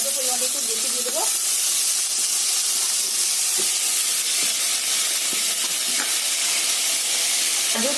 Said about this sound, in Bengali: তেলের মধ্যে গোটা জিরে শুকনো লঙ্কা দিয়ে এবার আলুটাকে ভেজে নেবো